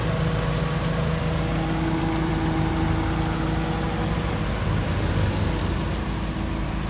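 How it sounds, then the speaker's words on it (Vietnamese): A learner-driver training car's engine idles smoothly and evenly, a steady low hum with a faint tonal whine that stays close and constant throughout. "máy nổ rất êm"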